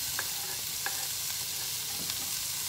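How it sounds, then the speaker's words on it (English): Onions sautéing in a pan in a home kitchen, a soft steady sizzle with occasional stirring scrapes, fairly quiet and without speech. "All right, so I'm just going to saute this."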